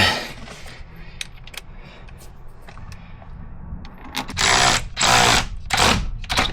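A power tool tightens a bolt on a Volvo P2 power steering rack, heard as several loud whirring bursts in the last two seconds, after quieter clicks and rattles of work in the garage.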